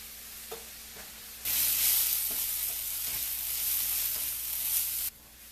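Soy sauce is poured into a pan of stir-fried ramen. A quiet pan suddenly bursts into a loud, hissing sizzle that holds for several seconds before dropping back abruptly.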